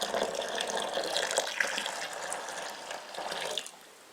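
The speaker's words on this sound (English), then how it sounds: "So I've boiled about two pints of water. So I'm going to put that on there, onto the sugar" Boiling water, about two pints, pours steadily onto sugar in a container for elderberry wine, giving a continuous close splashing and trickling that tapers off near the end.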